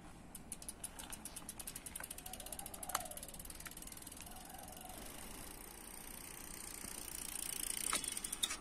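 A bicycle freewheel clicks as the bike coasts down a hill during a tire pressure rolling test, a fast, even ratcheting tick that runs throughout at moderate level, with faint road and wind noise behind.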